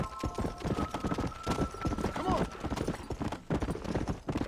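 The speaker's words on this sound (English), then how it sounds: "É, eu já tô aprendendo mais ou menos como é que cavalga no cavalo" A horse gallops in the Red Dead Redemption game, rapid rhythmic hoofbeats close up with a brief whinny partway through and a faint tonal music line in the background.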